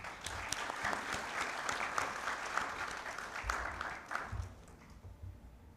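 An audience at a trauma conference award ceremony breaks into sustained applause, a dense patter of clapping that gradually softens near the end.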